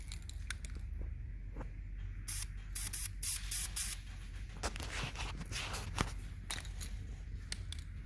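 Aerosol VHT early Chrysler blue paint sprayed onto a 383 engine, a series of short and longer hissing bursts, some in quick succession, with faint handling noises between them at close range.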